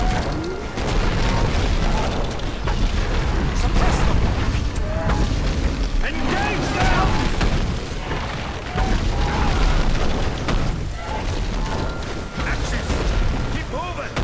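Booming artillery explosions roll on continuously in the fantasy strategy game BFME2, loud and dense, with battle noise and voices mixed in throughout.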